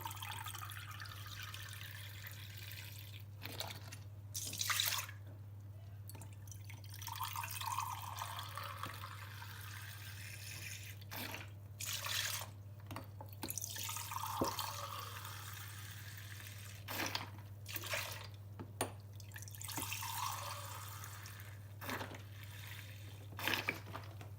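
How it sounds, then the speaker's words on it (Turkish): Four glasses of milk are poured into a bowl, giving intermittent bursts of liquid pouring and splashing between pauses, close by over a steady low hum. "Sütlü şerbeti için öncelikle şöyle bir kabın içerisine 4 su bardağı süt ilave edeceğim."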